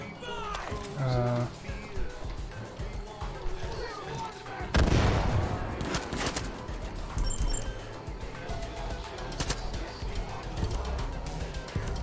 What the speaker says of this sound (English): he's using a mortar?